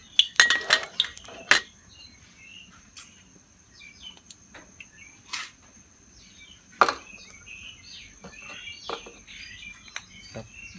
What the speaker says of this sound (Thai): ผัดเครื่องลาบให้มันหอมครับ